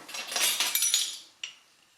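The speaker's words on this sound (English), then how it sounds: "We put in the rest of our sugar and we put in a teaspoon of cinnamon." A utensil stirs sugar and cinnamon for a cake topping in a mixing bowl, giving a bright, close scraping and clinking for about a second, then a short faint clink after a pause.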